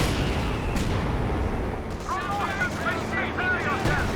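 An artillery barrage in the video game Company of Heroes 2, with heavy booms and gunfire rumbling constantly under a commentator's voice and shrill whistling rounds coming in near the end.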